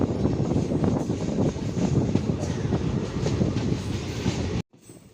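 A train rolls through Ichchapuram railway station with a loud, steady rumble and rattle of wheels and cars close by, cutting off abruptly near the end.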